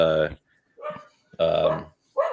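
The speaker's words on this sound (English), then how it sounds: "That little bastard comes up in here and fucking starts barking" A small dog barks in a few loud, close bursts separated by short pauses, in a room, with no talk over it.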